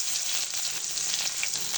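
Chopped garlic frying in hot oil in a pan, a close, continuous crackling sizzle with light stirring, no voices.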